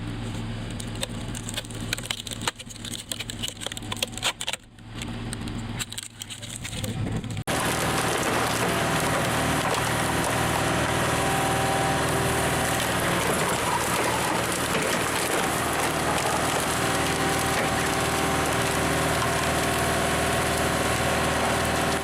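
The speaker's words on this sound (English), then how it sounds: "The deep green super splitter, powered by an 80 HP Ket turbo diesel engine, stands firm in the vast timber yard." A green super log splitter with an 80 HP turbo diesel engine works in a large timber yard, the engine shifting from a quieter, uneven rumble to a loud, steady roar alongside crunching, splintering wood.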